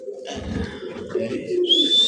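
White Indian Mumbai pigeons coo close by in a steady low murmur of overlapping calls, joined toward the end by a brighter, higher chirping note.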